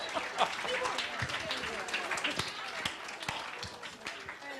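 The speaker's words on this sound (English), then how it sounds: "Ladies and gentlemen, your round of applause." Studio audience on a newlywed couples game show applauds near and loud, dense clapping with a few sharper claps, while a host's voice runs over it.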